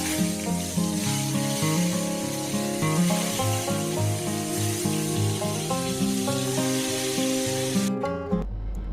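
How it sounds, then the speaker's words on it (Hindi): Brinjal (eggplant) pieces frying in oil over a medium gas flame, a steady hiss and sizzle running continuously beneath loud background music that cuts off near the end. "मैं इसको मीडियम गैस पे फ्राई करूँगी ताकि बैंगन जल ना जाए"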